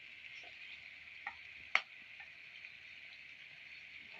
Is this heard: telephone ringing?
no